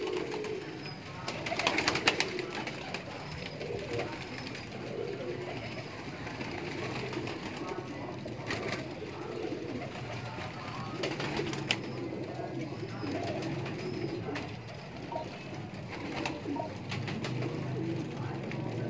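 Pigeons in a breeder's loft in inner Lahore's Delhi Gate keep up a steady, busy murmur of cooing, with faint talk and background clatter mixed in.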